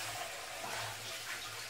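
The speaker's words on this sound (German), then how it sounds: "immer wenn ihr was mit Fleisch macht, immer ordentlich Hände waschen" Tap water runs steadily, a constant close rushing wash that fills the short moment with no break and no voices, as hands are washed after handling meat.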